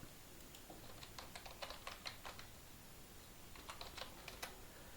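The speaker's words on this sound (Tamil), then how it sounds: "இதில் கூகுளில் போய் VirtualBoxன்னு டைப் பண்ண போகிறேன்." Keys on a computer keyboard are tapped in quick, quiet runs while a search is typed into a browser. A steady burst of keystrokes is followed by a pause and then a second, shorter run.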